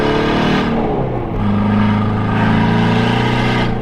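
A lowered stance car accelerating hard in a full pull, its engine note loud and continuous with a brief dip as it shifts gear before climbing again.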